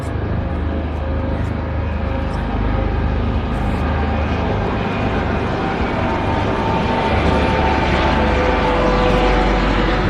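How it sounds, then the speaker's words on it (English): A Coast Guard helicopter passes overhead during a morning walk in Savannah, a loud continuous engine roar and rotor drone that holds steady and swells slightly toward the end, no talk over it. "Coast Guard copter"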